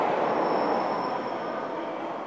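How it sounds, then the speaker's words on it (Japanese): A train rolls into a platform at Sapporo station, a broad rumbling roar of wheels on rail with a faint high squeal, slowly easing in loudness as it arrives. "まもなく7番線に列車が到着します。"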